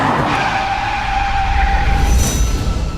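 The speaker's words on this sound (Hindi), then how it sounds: "सारा ये गाड़ी मुड़ रही है यार।" A car turning sharply with a loud tire skid: one sustained squeal, close and strong, with road rumble underneath, and no talk.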